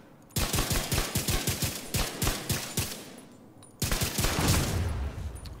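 Automatic gunfire in The Division 2 cracks out in rapid, evenly spaced bursts of loud shots, pausing briefly before another sustained burst, with no speech.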